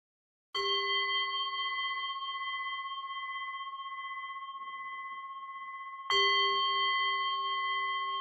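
A meditation bell rings twice, each strike a clear bright tone that hangs with a long, slowly fading resonance. The second strike comes about five and a half seconds after the first.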